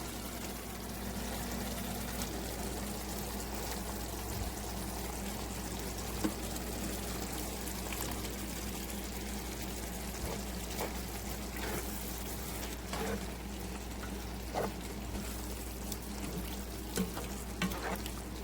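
Starchy pasta water pours from a pot into a pan of pasta and fresh tomato sauce, a soft continuous wet trickle with small splashes and clinks, close and fairly quiet with no talking.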